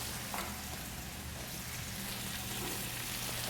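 Jalapeno, chopped tomato and fresh rosemary fry in a pan, giving a steady, close sizzle and crackle like light rain throughout, with no talk.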